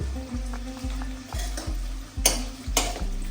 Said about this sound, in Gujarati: તો મિત્રો આપણું પનીર ફ્રાય થઈ ગયું હ